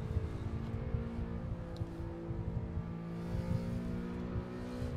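A BMW E92 M3 engine revs inside a racing video game, a low throaty drone with pulsing throttle blips running steadily at moderate volume with no speech.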